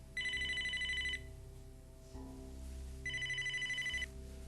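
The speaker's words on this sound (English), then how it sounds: "Do you think I don't hear my own phone ringing, Justin?" A telephone bell rings loudly in two bursts, each about a second long with a pause between, over a low steady room hum and no talking.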